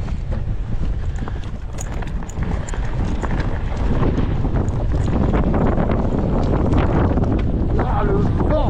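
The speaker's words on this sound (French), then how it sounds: "Ah, le vent!" Wind buffeting a microphone outdoors at a mountain bike park, a loud continuous low rumble and roar that thickens toward the end, with no clear voices.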